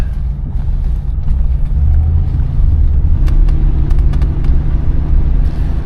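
A 1988 Cadillac Brougham's engine and exhaust while driving, a steady, close low rumble with a smooth even drone and no squeals, running alone without talk.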